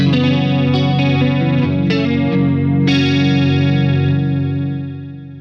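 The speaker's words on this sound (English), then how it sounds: "with the chorus sounds like this." Clean electric guitar run through compressor and chorus pedals, playing sustained chords and picked notes with a shimmering, wavering tone, loud and steady, fading out at the end.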